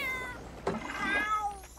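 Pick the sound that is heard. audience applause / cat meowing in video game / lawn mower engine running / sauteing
cat meowing in video game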